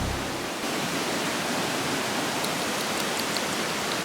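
A forest waterfall roars in a dense, unbroken rush of falling water, loud and close, holding steady with no voices over it.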